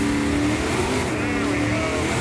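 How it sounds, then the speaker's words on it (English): A 1970 Chevy Nova on a Pass Time drag strip is building revs for a burnout. The loud engine holds a steady roar throughout, with a voice talking over it. "We'll see if we can get a good burnout here."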